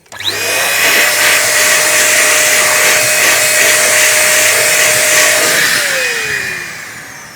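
A MECO electric air duster blasts air across a dusty PC in one long, loud, steady whine of about six seconds, then winds down as the motor is switched off.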